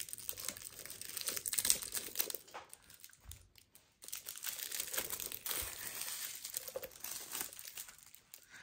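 Packing paper from a Coach Millie satchel being crumpled and torn by hand, close and crisp, in irregular bursts of crinkling with a short pause partway through.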